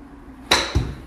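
Golf chip shot struck into a home golf simulator: a single sharp club-on-ball strike followed a quarter second later by a dull thump as the ball hits the screen or mat, in a quiet room.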